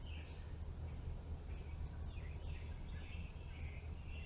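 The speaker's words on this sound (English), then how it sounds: "Take in a little bit of the sound, the birds" Faint birdsong chirps drift in from a distance over a steady low outdoor rumble and hiss, with no voices nearby.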